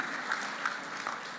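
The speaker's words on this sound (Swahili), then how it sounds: "Tafadhali pigieni Mungu makofi kwa sababu ya kutupatia siku ya leo." A crowd at a public gathering in Tharaka Nithi claps for God, a dense, steady burst of applause filling the short moment with no break.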